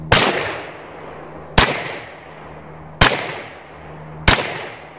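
Four sharp, loud Glock 19 Gen 2 pistol shots at an outdoor shooting range, evenly spaced about one and a half seconds apart, each with a decaying echo.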